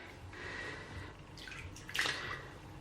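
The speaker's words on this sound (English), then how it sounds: "gonna try to just squish the water out" Water squeezed by hand from a wool sweater being washed gives soft wet squelching and trickling, close and quiet, with one brighter splashy burst near the end.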